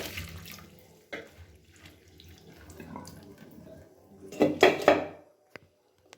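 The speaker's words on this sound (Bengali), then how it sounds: "এবারে আমি মোচাটাকে ভালো করে জল ঝরিয়ে নিচ্ছি।" Water drains from a chopped banana flower set in a basket over a sink, giving a brief louder splashing burst midway among faint handling noises, with no talking.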